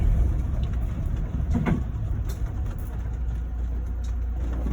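A car engine with a five-speed gearbox runs continuously at a low, rough drone, with a brief rise in rumble partway through and no talking.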